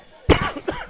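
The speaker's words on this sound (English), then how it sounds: "excuse me, I had to cough." A basketball commentator gives one short, sharp cough followed by a smaller second burst, close to the microphone.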